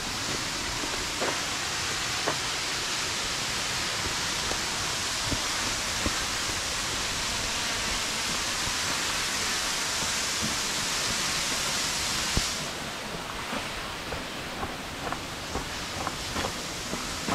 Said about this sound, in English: And behind the bush is the waterfall.